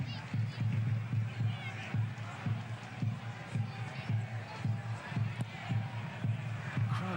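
Crowd of about 5,500 at Turner's Cross in Cork for an FAI Cup semi-final football match between Cork City and St Patrick's Athletic, a steady roaring hubbub with rhythmic surges and chanting throughout.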